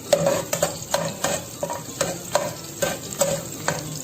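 Garlic cooking in not-yet-hot oil for a shrimp misua soup, with a steady soft sizzle and repeated scraping stirs of a utensil against the pan at a regular pace, close and alone.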